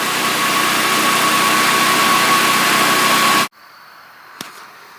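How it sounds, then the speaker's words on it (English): A Harbor Freight Predator 4000 watt generator running, a loud, steady engine drone with a faint high whine that stops suddenly partway through, followed by quiet and a single small click. "it is a much quieter unit and runs very smooth"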